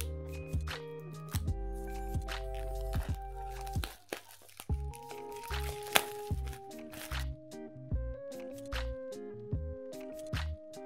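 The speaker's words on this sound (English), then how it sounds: "One of the most satisfying thing to do is to cut open the plastic." Plastic wrap on an Apple AirPods 2 box being cut and peeled open, with close crinkling, tearing and crunching in short bursts separated by brief pauses, alone with no talk.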